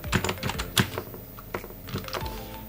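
Quick, uneven keystrokes clatter on a computer keyboard during video editing in Edius software, close and crisp with short pauses between bursts.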